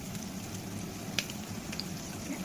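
Chopped onions frying in hot oil for a Karnataka-style chicken sambar, a steady dense sizzle with a faint crackle and one sharp pop, no voices.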